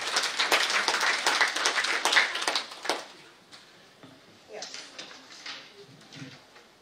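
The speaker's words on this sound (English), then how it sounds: "A round of applause for them." Audience applause at a women's leadership forum as certificates are handed to former gender champions, several seconds of moderate clapping that stops abruptly, followed by a quiet hall with faint murmurs.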